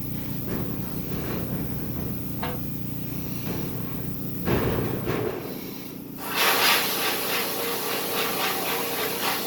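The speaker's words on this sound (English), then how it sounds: "since I have a new sandblaster, go ahead and blast up this rusty battery tray" A new sandblaster works on a rusty battery tray, a rough continuous hiss with scattered knocks and rattles, growing louder and brighter toward the end, close by with no speech.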